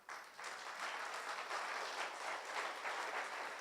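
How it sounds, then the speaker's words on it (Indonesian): Audience applause during a church service, a steady wash of clapping from many hands that starts abruptly and holds at a moderate, slightly distant level. "Tepuk tangannya lebih baik."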